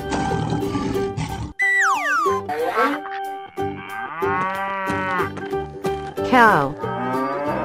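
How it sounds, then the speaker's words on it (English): A cartoon cow moos in an animated animal slide game, close and clear, heard alongside playful swooping effects and a steady, bouncy music track. "Cow."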